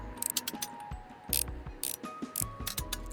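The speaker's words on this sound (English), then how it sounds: "we'll take the screws out" Screws being backed out of a retro electronic device during a repair, giving a run of close, crisp ratcheting clicks in quick bursts with short pauses between them.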